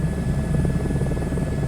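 An Airbus H125 helicopter in Microsoft Flight Simulator 2024 gives a steady, close cabin drone of turbine and rotor, with a low rhythmic thrum and a thin high whine, continuous and without talk.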